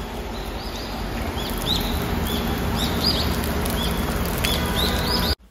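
Steady rain falling on a summer day in South Korea, a dense continuous patter with faint chirps above it, heard alone without talk before it cuts off abruptly.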